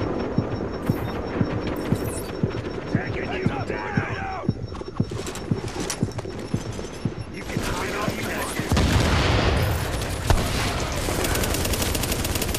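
Gunfire crackles through a firefight in The Division's Dark Zone, with rapid bursts and single sharp shots repeating over about twelve seconds, loud and close, denser toward the end, with talk in between.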